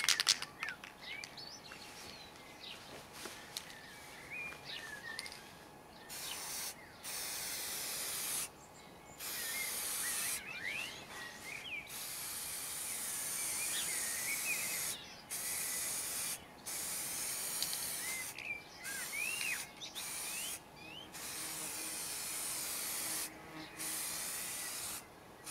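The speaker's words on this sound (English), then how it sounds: "using a regular can of spray, I bought this one from Halfords, get from any DIY store, I'm going to spray it all round" A regular can of spray paint hisses in repeated long bursts over a car grille, with short pauses between them, close and steady, with faint rattling and birdsong in the background.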